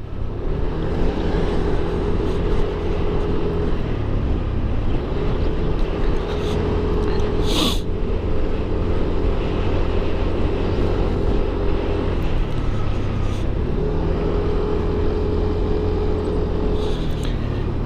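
Yamaha NMAX 160 scooter riding along a road, a steady continuous engine drone and wind noise running throughout, with gear-like pitch shifts and a brief sharp rise near the middle.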